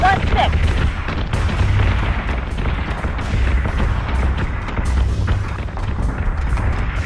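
Heavy cannon fire in the space-battle game Battlestar Galactica Deadlock rumbles as a dense, continuous barrage of loud booms and blasts, with deep low rumble running through the whole stretch.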